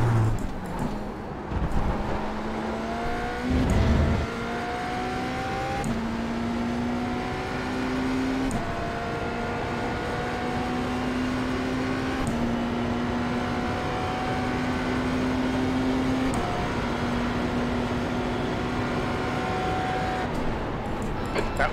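A BMW M Hybrid V8 LMDh prototype race car engine lapping Interlagos in iRacing, heard from inside as a loud, steady engine whose pitch climbs repeatedly through the gears, each rise broken by a quick shift.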